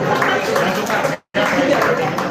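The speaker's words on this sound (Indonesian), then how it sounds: "Tepuk tangan buat Bang Rizal Jalil." An audience at a book launch and talk event applauds a buyer of the book, dense clapping with a brief gap in the middle, loud and continuous on either side.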